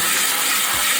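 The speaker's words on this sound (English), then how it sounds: "drain and rinse 1 can of red kidney beans" Canned red kidney beans get rinsed under running kitchen water, a loud, close, continuous rushing splash with no pauses.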